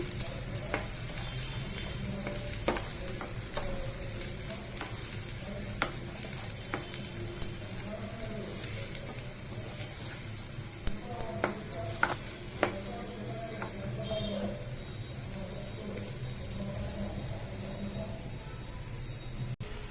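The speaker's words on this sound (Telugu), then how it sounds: "ఉల్లిపాయ ముక్కలు, పచ్చిమిర్చి వేస్తున్నాను. వేపుదాం, బాగా వేగాలండి ఇది." Chopped onions and green chillies fry in a pan for a Telugu prawn curry, a steady close sizzle with scattered clicks and scrapes of stirring throughout, no talking.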